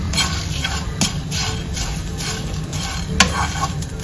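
Grated coconut is roasted and stirred continuously in a pan, giving a close scraping, rustling stir over a dry sizzle, with a few sharp utensil clicks against the pan and no talking.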